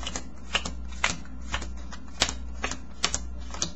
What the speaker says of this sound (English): you start deal out some more random cards, just like this